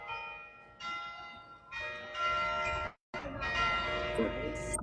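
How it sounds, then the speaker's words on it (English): Bells in a downtown Augusta, Georgia church tower strike in successive peals, each ringing tone lingering and layering over the last, with a brief drop-out midway and street ambience below. "Can you hear the bells?"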